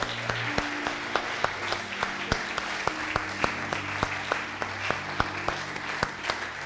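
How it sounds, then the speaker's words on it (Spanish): A church congregation gives a loud round of applause to the Lord during a Spanish-language sermon, a steady wash of clapping with sharp individual claps standing out over a low sustained tone, continuing evenly throughout. "Dale un fuerte aplauso al Señor."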